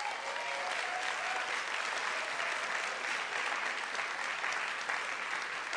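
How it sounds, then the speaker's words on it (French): A church congregation applauds visiting pastors in a steady, dense wash of clapping that holds at an even level throughout, with no voices standing out above it. "Est-ce que vous voulez bien les applaudir?"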